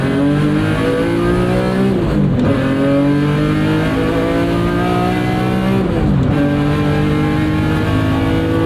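A lightened BMW E46 M3 track car pulls hard under acceleration, its engine note climbing through two full rev sweeps with a brief dip at each gear change, loud and close throughout.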